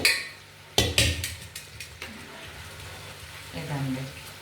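Ingredients fry in a pan on a home stove, with a loud metallic clank and clattering utensil knocks over a soft sizzle; a voice murmurs faintly in the background.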